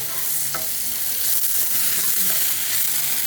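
Shallots and tomato sautéing in a pan, giving a steady close sizzle and frying hiss with scraping stirring sounds throughout and no talk.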